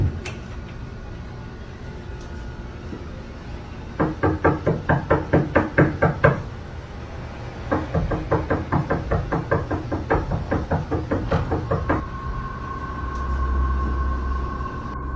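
Strange knocking on a door: two long runs of rapid, evenly spaced raps, each lasting a couple of seconds with a short pause between, loud and close, followed by a low hum and a steady tone.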